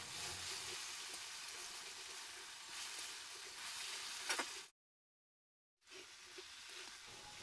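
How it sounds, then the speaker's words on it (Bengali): Prepared sauce poured over vegetables frying in a pan for egg chowmein gives a soft, steady sizzling hiss that cuts out briefly, then resumes just as faintly. "এখন আমি যে সসটি তৈরি করে রেখেছিলাম সেটি দিয়ে দিচ্ছি।"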